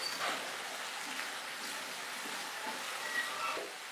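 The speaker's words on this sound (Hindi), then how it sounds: "अब इसमें लेमन जूस डालेंगे और मज़ीद 2 मिनट इसको पकाऊंगी" Chicken tikka gravy with lemon juice cooks in a pan, giving a steady, even sizzle and bubbling hiss that holds for the whole stretch with no voices.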